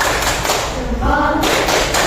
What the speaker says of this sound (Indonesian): Tepuk salut masih ada enggak?